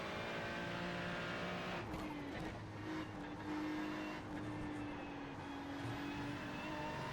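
A race car in the iRacing sim streaks by with a rising and falling engine whine, tires squealing as it passes, set against the steady drone of another engine close by.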